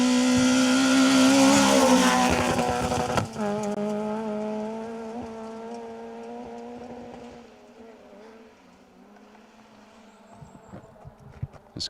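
Rally car on a stage of the Woodpecker Stages Rally 2023, 2WD class, roaring loud at full throttle as it passes close, then a sharp gear change and the engine note fading steadily into the distance.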